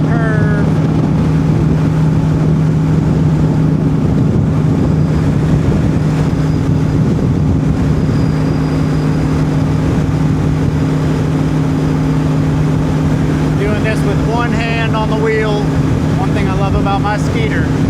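A Skeeter bass boat's outboard motor runs at full throttle, a loud, steady drone with a strong low hum that holds throughout while the hull rushes over the water. A voice talks over it in the last few seconds.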